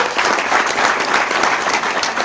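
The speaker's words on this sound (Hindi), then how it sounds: "जोरदार तालियां चाहेंगे सर के लिए" Steady, dense applause fills the space for S.K. Shukla at a network marketing motivational talk, a crowd clapping continuously and fairly close, with no talk over it.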